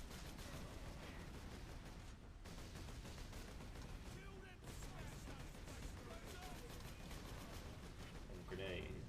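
Sustained automatic gunfire from a Warhammer 40K Space Marine video game, loud and dense for most of the stretch with brief breaks, layered over game battle noise and chatter.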